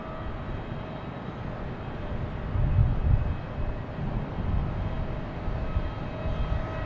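A JetBlue airliner arriving at Boston Logan Airport makes a steady, distant jet rumble that swells slightly partway through, with no talk over it.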